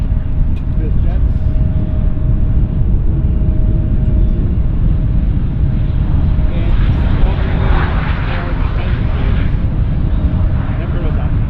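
A jet aircraft passes close by at Vancouver Airport with a loud, continuous rumbling engine roar that builds toward the end.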